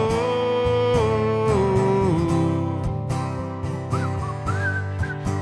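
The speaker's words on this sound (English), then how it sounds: "Oh, I can't whistle." Whistling over a live performance at a venue in Mornington, with sliding whistled notes rising above dense, continuous music near the end.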